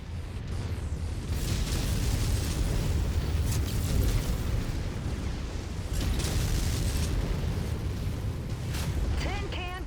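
Missile impacts in the MechWarrior 5: Mercenaries mech combat game: dense, continuous rumbling blasts and booms layered together, with a loud sustained roar throughout.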